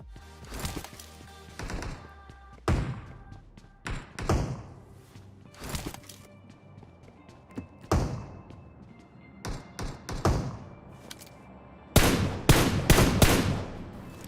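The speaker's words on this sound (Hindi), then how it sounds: "उसने शॉटगन एक और बजा दी" Bursts of gunfire in PUBG Mobile, including heavy shotgun blasts, come as loud separate booms and short clusters of shots with gaps between them, then a dense rapid volley near the end.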